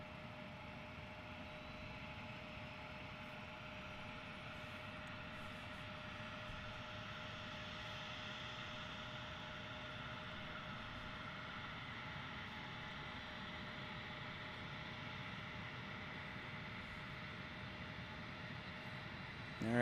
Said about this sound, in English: our FedEx arrival is on final